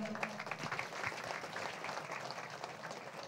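An assembly of listeners claps for trust members, a faint, distant, continuous patter of applause with no talk over it.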